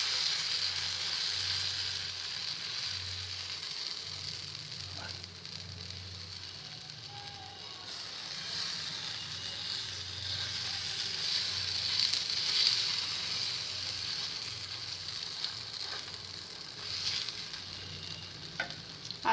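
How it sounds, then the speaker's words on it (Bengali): Besan chilla batter fries in a little hot white oil on a tawa over lowered heat. It gives off a soft, continuous sizzle with a faint steady hiss, and the sound stays even throughout with no voices. "আমি এবার এটা ভাজতে থাকবো"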